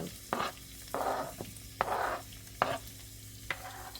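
Orange sweet pepper goes into a hot pan for Jamaican callaloo, giving bursts of sizzling frying between crisp clacks and scrapes of a spoon stirring, close and rhythmic, with no voices.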